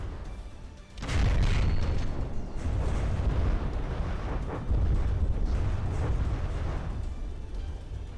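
Light missile explosions in the From the Depths game, a sudden heavy boom followed by sustained rumbling blasts and overlapping detonations, loud and continuous.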